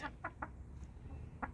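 Polish chickens give a few faint, short clucks, spaced irregularly against a quiet background.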